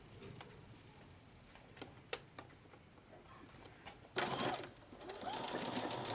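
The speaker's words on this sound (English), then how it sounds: "And then I'm going to sew." A sewing machine stitches fabric appliqué onto a dish towel, a quiet, continuous whirring patter that swells louder near the end.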